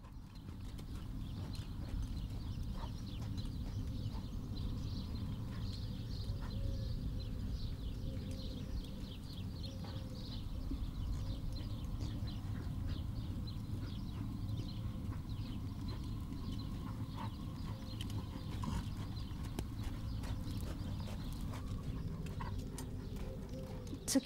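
A 16-year-old home stallion ridden in a Provençal summer setting, hooves clip-clopping steadily and continuously at moderate distance, with a broad low rumble beneath and faint birds, no clear talk.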